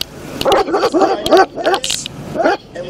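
A dog barks and yips repeatedly in quick, excited bursts close by during a traffic stop, with a vehicle hum underneath.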